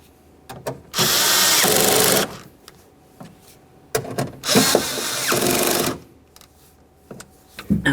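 Two bursts of a power tool whirring, about a second and two seconds long, tighten the mounting nuts on a new rear window motor in a 1994-1997 Honda Accord, separated by small clicks and handling noises.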